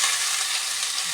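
Onions and garlic frying in a pan, a loud, steady, close sizzle with no break and no voices over it.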